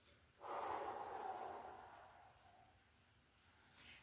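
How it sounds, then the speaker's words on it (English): A person exhales forcefully as if blowing out a candle during a breathing exercise, a soft, close breathy rush that swells quickly and fades slowly over a few seconds in a quiet room. "as I exhale, I'm gonna exhale with the sound of a blowing out a candle"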